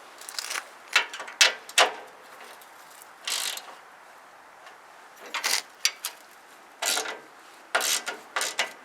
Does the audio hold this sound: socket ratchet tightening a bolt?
yes